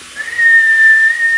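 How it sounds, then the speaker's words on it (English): A guard's railway whistle gives one long, steady, shrill blast that holds a single high pitch for over a second, loud and close, with no talk over it. "I'm going to blow my whistle one last time."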